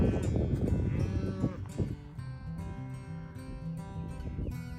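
Cattle mooing in a pasture being rooted up by hogs, a loud, dense chorus of overlapping low moos that fills the whole stretch, with one steady sustained call standing out toward the end.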